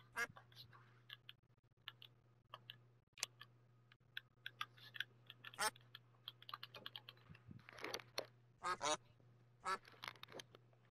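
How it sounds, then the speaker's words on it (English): Duck quacks from the Terraria video game, several short bursts scattered among keyboard typing and clicks, fairly quiet over a steady low hum. "Is there a duck?"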